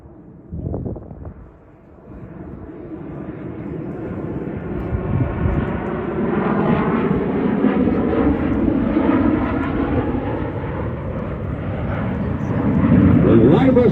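Blue Angels jets fly a loop at an air show at NAS Pensacola, with a distant jet roar building steadily into a loud, broad rumble while an announcer talks over it.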